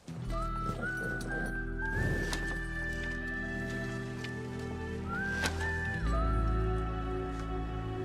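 A horse in a Hindi action film scene, its sounds set against a sustained musical score with whistle-like tones, steady and moderately loud throughout without clear separate hoof beats.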